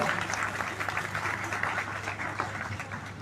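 Steady applause from an audience welcoming Dr. Javed Iqbal, a dense continuous wash of many hands clapping throughout, with a faint low hum underneath.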